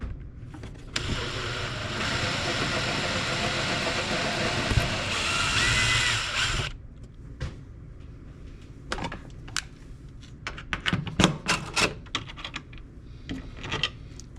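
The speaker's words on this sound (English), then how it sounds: "And it's got a 3mm drill bit." A power drill with a 3mm bit runs steadily and loudly for several seconds, then stops. Clicks and handling taps from the work on an RC4WD flush-mount hoist follow.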